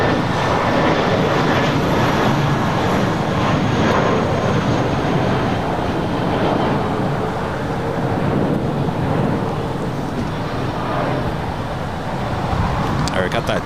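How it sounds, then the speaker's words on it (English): A China Airlines Boeing 777 cargo freighter takes off from runway 25 left, a broad, steady jet roar with wind buffeting that holds loud throughout, with a voice talking over it. "got that China Airlines cargo 777 freighter lined up, ready to go here on the south side on 25 left"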